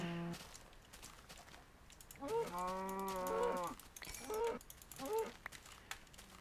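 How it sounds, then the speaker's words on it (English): Cows mooing in the Minecraft video game, several drawn-out game moos overlapping one after another at moderate loudness, with shorter moos following and faint background game noise. "Whoa, there is a lot of cows here."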